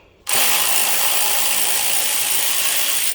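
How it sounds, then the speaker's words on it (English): A power driver with a star socket backs out screws from the instrument cluster of a 1998 Cadillac DeVille, giving one continuous loud whirring, rattling run of about three seconds that starts and stops sharply. "You're gonna take these 1, 2, 3, 4, 5 screws out."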